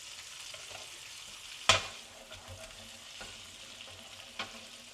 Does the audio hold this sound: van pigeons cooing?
no